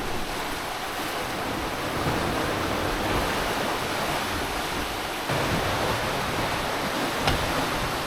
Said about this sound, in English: We just got the wave, so the water went over the sugar scoops and came all the way here.